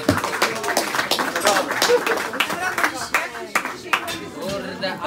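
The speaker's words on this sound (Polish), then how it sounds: "brawa wielkie!" An audience claps at a Lublin karting season awards ceremony for the best drivers, with uneven bursts of hand claps mixed with people talking over them.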